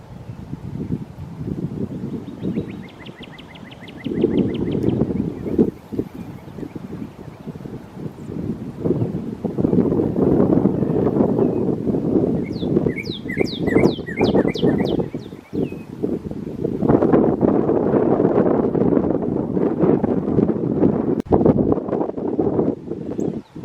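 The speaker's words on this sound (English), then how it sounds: "Look how windy it is up there." Strong wind rushes through the trees of Iroquois Park on a cold March morning, a loud roaring wash that rises and falls in long gusts, with bird calls and chirps cutting through at moments.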